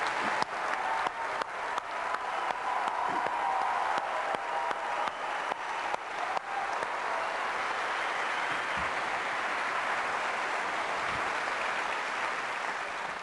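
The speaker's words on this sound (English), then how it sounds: "take a round of applause" Large audience applause at a 1999 Apple product event honoring the ad agency, a steady sustained ovation lasting the whole stretch with a few sharp claps early on.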